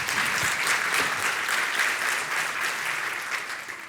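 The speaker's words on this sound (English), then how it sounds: "A warm round of applause, please." A conference audience at a security talk applauds to welcome a speaker, a steady, dense round of clapping that holds at full strength for the whole stretch and eases only slightly toward the end.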